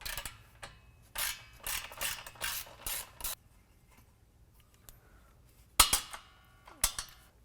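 Ratchet wrench with a 16 mm socket loosening the exhaust band clamp on a 2015 Ford F-150 during a cat-back exhaust install, heard as bursts of close metallic clicking strokes, then a pause and a few more ratcheting bursts.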